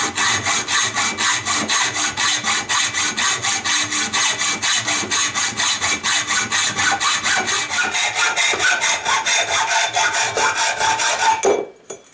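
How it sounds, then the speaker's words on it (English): A hacksaw cuts a piece of stock to length for a ukulele build. The close, rhythmic back-and-forth rasp of quick, even strokes continues steadily, then stops abruptly near the end. "go ahead and get your hacksaw and chop this thing off at 24 inches"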